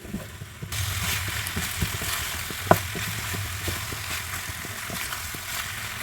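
Pasta goes into a hot pan with artichoke and sizzles steadily at close range, with scattered light clicks of utensils and one sharp knock partway through.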